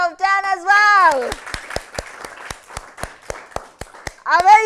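A crowd of children and adults claps in a brisk burst of sharp, separate hand claps lasting several seconds, with speech and an excited voice before and after the applause.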